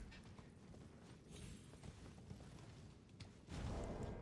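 Horse hooves clip-clop steadily at a gallop in Elden Ring, quiet and continuous, with a louder burst of movement near the end.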